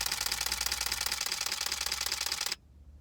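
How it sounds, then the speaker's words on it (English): Canon EOS 1DX Mark II firing in its quiet mirror and shutter mode, a rapid run of soft mechanical clicks lasting about two and a half seconds and then stopping, close and alone. "there are times when you're shooting kind of skittish wildlife where you need a quieter mirror and quieter shutter, and that's what this does."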